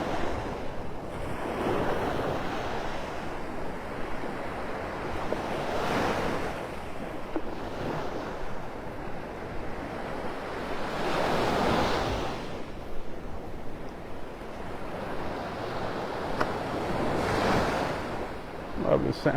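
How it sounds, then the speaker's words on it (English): Gulf of Mexico waves rolling onto Vanderbilt Beach in North Naples, Florida, on a dark morning, each slow surge of surf building and receding in a steady rhythm under a constant hiss of wind against the microphone. "Love the sound of those waves."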